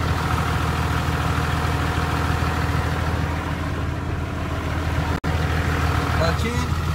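A Cummins diesel truck idles with its Valair twin-disk clutch disengaged, giving a steady, loud, close rumble and rattle that holds throughout, broken by one brief dropout near the end.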